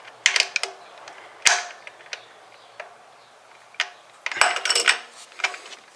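Ratchet clicks tighten the PCV valve on a 2008 Toyota RAV4 2.4L 2AZ-FE engine, with sharp, irregular bursts of ticking and metallic handling close up, separated by short pauses.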